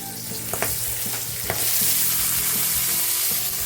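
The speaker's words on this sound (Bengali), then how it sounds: "এখন মটরটা একটু ভেজে নেবো প্রথমে আলু আর মটর" Potatoes and green peas fry in hot oil in a wok, giving a steady close sizzle throughout with a few sharp stirring clacks and scrapes, no voices.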